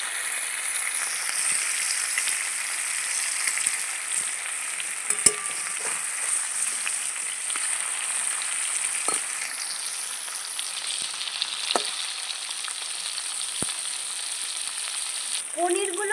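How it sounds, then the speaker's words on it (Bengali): Paneer pieces frying in a pan give a steady, dense sizzle throughout, close and fairly loud, with a few brief clicks and taps from stirring or turning and no talk over it. "পনিরগুলো আমার লাল করে ভাজা হয়ে গেছে,"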